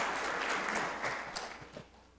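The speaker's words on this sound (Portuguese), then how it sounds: "aplauda o Senhor" A church congregation applauds, a dense wash of clapping that fades slightly over about two seconds, with no voices on top.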